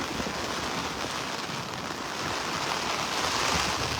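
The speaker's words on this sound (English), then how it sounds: "It's raining hard now." Heavy rain pours steadily at a beach in North Naples, Florida, a dense continuous roar of drops hitting surfaces, loud and unbroken throughout.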